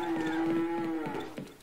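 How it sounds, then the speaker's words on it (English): A cow moos once in the Sven Co-op video game, a long, steady, low bellow heard clearly on its own at moderate volume. "I heard a cow!"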